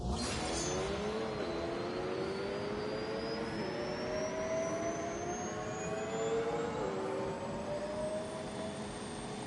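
A Rimac electric hypercar launching in thrust mode in The Grand Tour video game, a loud sustained whine climbing steadily in pitch as it accelerates hard, heard alone without talk.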